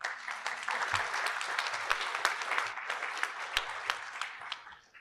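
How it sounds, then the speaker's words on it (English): Applause from an audience at a talk on an assisted outpatient treatment program review tool, a steady wash of clapping with sharper individual claps standing out, sustained for about five seconds and moderately loud. "Yeah, applaud these people."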